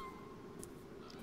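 A cat meows in the video game Beyond Eyes, a faint, brief tone over a quiet ambient game background.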